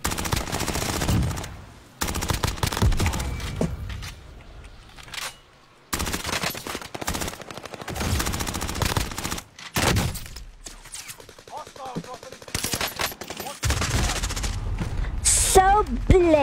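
Rapid automatic gunfire from a video game, bursts of loud shots separated by brief gaps, with a voice occasionally talking over the firing.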